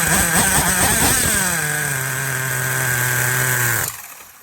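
A hand-modified Force .21 nitro model engine runs with a loud buzzing drone that sags into a lower, rough, faltering pitch as it struggles to idle, then cuts out abruptly near the end.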